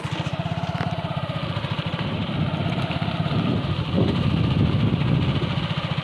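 A motorcycle engine is heard while the bike is ridden along a village road, a steady, close, pulsing mid-pitched drone that holds at a constant throttle.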